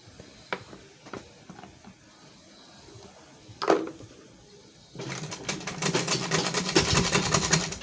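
A Butterfly manual sewing machine stitches a ladies' box handbag: a few scattered clicks and a brief bump, then a loud, continuous, rhythmic clatter of stitching for the last few seconds, with no voices.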